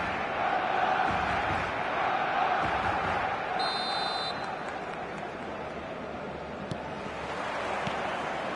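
Dense stadium crowd roaring and murmuring before kickoff in an eFootball match, a continuous broad wash of noise with a brief whistle-like tone partway through, no distinct voices standing out.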